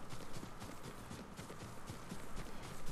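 Horse in Ghost of Tsushima, feudal Japan, galloping past with a quick run of rhythmic hoofbeats, fairly faint and close by.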